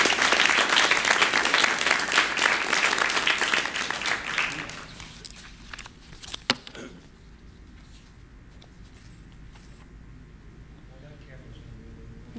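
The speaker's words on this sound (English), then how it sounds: "A big round of applause." Audience applause fills a board of education meeting room, a dense steady clapping for about five seconds that then fades out, leaving quiet room tone with a couple of faint knocks.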